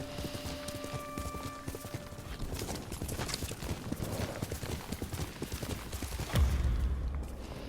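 A horse's hooves clip-clop in a fast galloping rhythm as a rider travels in the video game Ghost of Tsushima, steady and close, with a heavy thud near the end.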